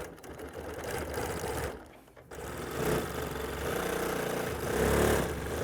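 Sewing machine stitching curvy quilting lines with black thread, a steady fast mechanical whir running continuously up close with a brief dip midway, no talking.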